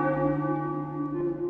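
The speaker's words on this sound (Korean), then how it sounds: "근데 아까 전에 종소리가 울렸는데?" A church bell tolls in the video game FAZE, a loud, sustained metallic ring with rich overtones that hangs steadily without fading.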